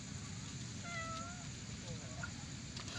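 A cat meowing near fish grilling over a fire, two or three faint drawn-out mews at moderate distance beneath a steady hiss of background noise, without clear talk.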